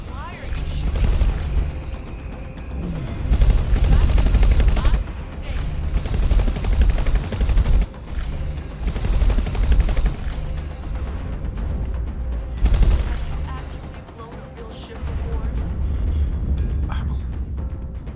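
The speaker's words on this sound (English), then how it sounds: "Why are you shooting?" Rapid bursts of gunfire and heavy booms from a space combat scene in the video game X4: Foundations, coming in loud, dense volleys with brief lulls, and a voice faintly present underneath.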